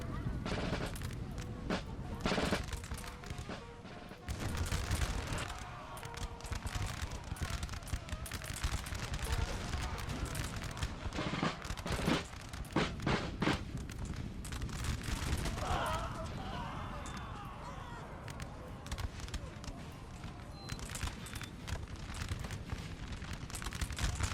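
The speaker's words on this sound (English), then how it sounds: "Mass volley. And still more Russian artillery support." Dense musket volleys and booming artillery fire roll through a Napoleonic-era battle in Napoleon Total War 3, near and distant cracks piling up continuously, with scattered bursts over a constant roar of combat.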